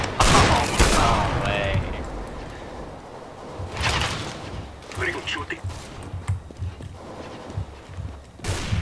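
Gunfire in a video game: scattered bursts of shots, a heavy volley at the start and more shots spread through the rest, heard under excited talking throughout.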